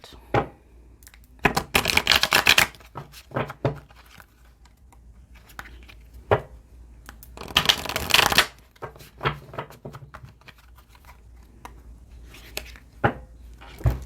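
Tarot cards being shuffled in two loud, dense riffling bursts, with scattered single card taps and snaps between them, close up with no talk.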